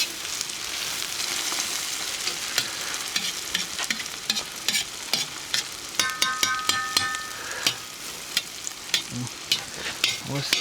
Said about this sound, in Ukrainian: Так, Друзі, карамелізуємо нашу цибульку.